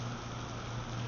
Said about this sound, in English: So, we've had everything. Snow, intense heat, and now tropical rain.